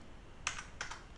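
Quiet keystrokes on a computer keyboard as an integer is typed, two short bursts of clicks, each a quick double tap, close and alone.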